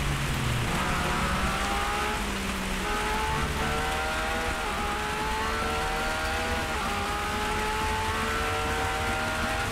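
Rain falls on a conservatory roof as a dense, constant hiss filling the whole stretch, with the tonal drone of racing-game car engines rising and shifting over it.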